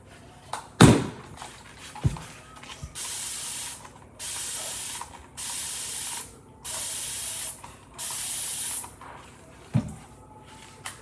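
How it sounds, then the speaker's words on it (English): A spray bottle mists liquid onto a chalkboard in five even, hissing bursts of about a second each, close and clear, after a few knocks and taps at the start. "spray it and let that sit a couple seconds here"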